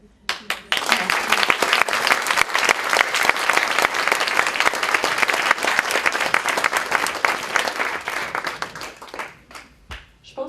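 Audience at a PDF Québec platform launch applauding, a sustained burst of many hands clapping that swells quickly, stays loud for several seconds, then thins out to a few scattered claps.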